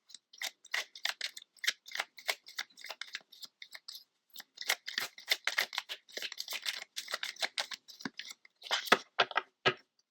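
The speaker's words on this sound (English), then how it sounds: "as I'm shuffling, the cards are going this way and that way, like, sliding a bit" Playing cards shuffled by hand, a dense run of crisp riffling clicks and sliding flutters in repeated bursts over about ten seconds, close and fairly quiet, with no talking.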